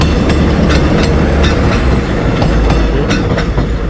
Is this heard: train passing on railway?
yes